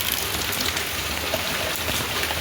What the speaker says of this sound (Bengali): কী জোরে বৃষ্টি পড়ছে